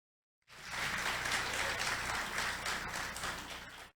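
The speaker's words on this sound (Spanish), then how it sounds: "Todos los hombres, dense un aplauso." Men in a Christian church congregation burst into sustained applause that begins abruptly after a moment of silence, holds at a steady, full level, then cuts off.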